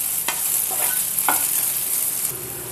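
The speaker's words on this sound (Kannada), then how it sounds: "ಕೈ ಬಿಡದಂಗೆ ಒಂದು 2-3 ನಿಮಿಷ ಹೀಗೆ ಬಾಡಿಸ್ತಾ ಇರಿ" Bitter gourd (karela) sautés in a pan for a sambar, giving a steady hiss of frying oil broken by a few short scraping stirs of the spoon, close and alone with no voices.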